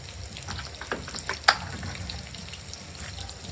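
Whole cardamom, cloves, cinnamon, bay leaf and cumin frying in hot oil for jeera rice: a steady soft sizzle with a few sharp pops and crackles, one louder burst near the middle, no talking.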